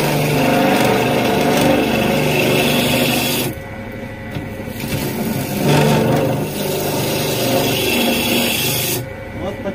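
A homemade hook cutter works wood on a lathe, making a loud, steady motor drone with rough cutting noise that dips and returns as the tool engages. Someone talks over it.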